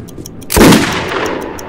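A single gunshot fired in the video game Metro 2033, a sharp loud blast with a short ringing tail that fades into low ambient game noise.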